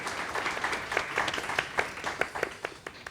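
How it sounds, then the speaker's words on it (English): Light applause from a forum audience welcoming panelists onto a stage, a thin scatter of individual claps with a few sharper hand strikes standing out, moderately close and without talk. "perhaps we can start with a quick round of applause for our panelists and welcome them to the stage"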